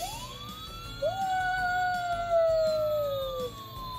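A toy fire station siren wails in rising and falling electronic tones, fairly quiet and close, with a second overlapping siren tone joining partway through.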